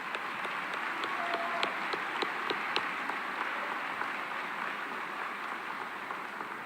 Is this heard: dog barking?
no